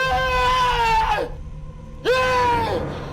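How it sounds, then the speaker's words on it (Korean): A voice screams twice in a horror radio drama, the first cry long and wavering before trailing off, then a short pause and a second loud scream rising again, close and dominant. "순간 비명소리와 도망치는 소리에 정신이 든다."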